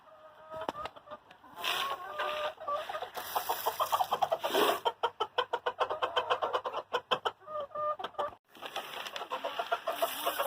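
Hens cluck and a rooster calls from a backyard flock, loud and close, the clucks coming in quick choppy runs with brief pauses between bursts and no one talking.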